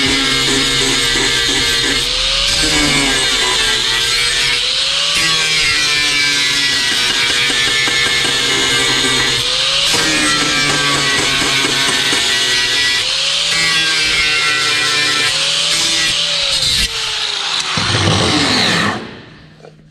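An angle grinder runs continuously against material, loud and close, its whine dipping and rising with load before winding down at the end.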